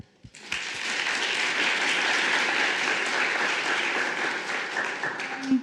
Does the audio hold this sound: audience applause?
yes